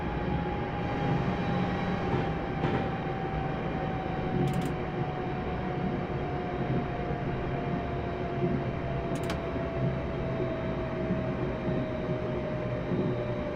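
A British passenger train in Train Simulator 2018 brakes on approach to Lichfield Trent Valley, a steady rumbling drone with a slowly falling whine and two brief sharp clicks, no talking.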